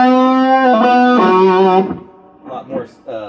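Electric guitar through a modified DD-5/SD-2 pedal on its lead channel, loud and saturated: sustained distorted chords ring for nearly two seconds, then a few shorter clipped notes follow.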